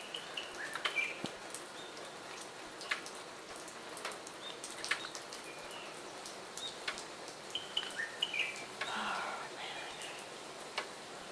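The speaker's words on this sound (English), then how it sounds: "Birds are out. I think they're enjoying the weather." Faint birds chirping outdoors amid steady light rain during Typhoon Krosa, scattered tweets and calls over the soft patter of drops.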